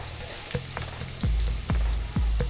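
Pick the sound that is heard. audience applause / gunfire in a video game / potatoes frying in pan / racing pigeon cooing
potatoes frying in pan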